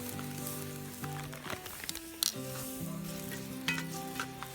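Steak fajitas with green and red peppers and onion sizzle in a pan over a campfire, a steady close crackling hiss with a few sharp pops and stirring clatter, under sustained musical tones.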